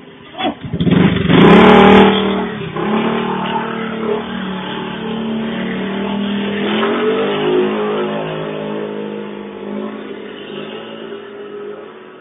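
A motorcycle engine revs hard and close, surging loudly at the start and then settling into a steady, rough drone that runs throughout.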